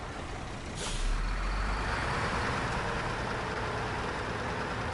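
A SnowRunner truck pulling an empty trailer maneuvers to turn around, a loud hiss of air brakes bursting out near the start, then a steady low engine rumble and broadband noise.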